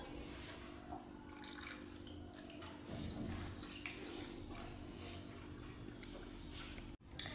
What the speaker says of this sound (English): And now I'm going to put water.